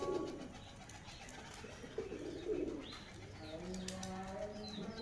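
A pair of green-necked pigeons coo in soft, low repeated calls close by, with some faint background noise and no talking.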